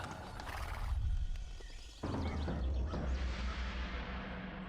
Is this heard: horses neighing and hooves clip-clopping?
yes